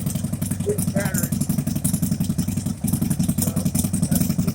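A 2000 Harley-Davidson Sportster XL883C idling high on a jack, its engine thumping in a steady, even loping rhythm close by, with faint clatter and no talking.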